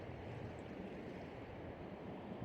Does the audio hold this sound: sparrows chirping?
no